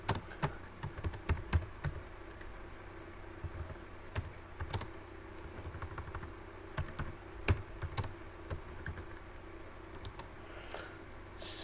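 Keys on a computer keyboard being typed in irregular bursts of sharp clicks, close and fairly quiet, with no talking over them.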